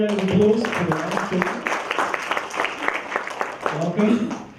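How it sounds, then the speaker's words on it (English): Audience applause rising for the final speaker at an event, steady dense clapping of a crowd with a few louder swells, overlapping a voice speaking over it. "please give a warm round of applause for the last"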